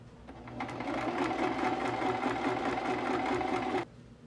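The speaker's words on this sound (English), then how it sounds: "make sure you're only sewing on the outer layer of the fabric" A sewing machine runs in one continuous burst, stitching the outer fabric layer of a cotton, knit and silk scrunchie, a close, steady whirring rattle that stops sharply near the end.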